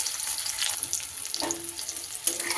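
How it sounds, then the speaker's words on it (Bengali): Eggs frying in a pan, seasoned with chili powder, salt and turmeric, give off a steady, soft sizzle with a few light stirring scrapes and no voices. "একটু নেড়ে চেড়ে ভেজে নেব।"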